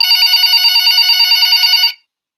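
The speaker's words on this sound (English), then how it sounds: "and then the phone rings" A telephone bell rings loudly and steadily in a continuous trilling burst lasting about two seconds, then cuts off abruptly to silence.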